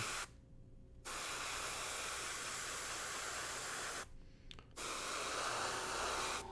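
An Infinity CRPlus airbrush spraying paint in bursts, a steady close hiss that cuts off briefly twice and starts again.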